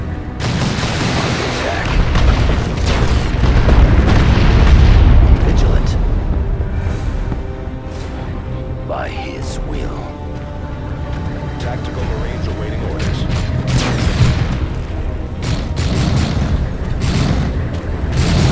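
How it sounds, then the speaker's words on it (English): A grenade launched and exploding in the Warhammer 40k game Dawn of War II, heavy booming blasts and gunfire rumbling loudly through a battle, with voices talking over the combat. "Launching grenade."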